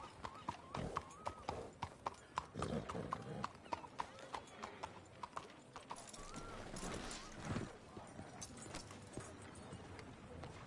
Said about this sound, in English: That is a fine horse.